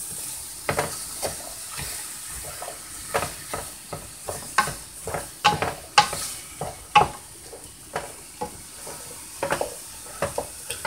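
Beef browning in a pot for a simple stew, with a steady sizzle under repeated, rhythmic scrapes and clacks of a spoon stirring the meat, close and moderately loud.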